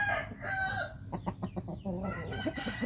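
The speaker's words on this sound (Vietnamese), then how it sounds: "Gà này thì có chân của nó, cái ngón giữa nó hơi qua một chút cả nhà" A large chicken weighing about 4 kg clucks and crows close by, with a short crowing burst cutting through steady clucking and a faint background murmur.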